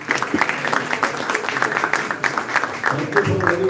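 An audience at a medical conference claps steadily throughout, with rhythmic individual claps audible within the wash of applause and a voice talking over it.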